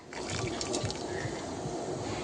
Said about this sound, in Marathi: आता याच्यातून आपल्याला निम्म पाणी काढून घ्यायचं आहे